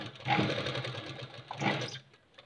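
A sewing machine runs in two steady bursts, stitching fine seams on patti fabric, a close, fast mechanical whir that pauses briefly between runs.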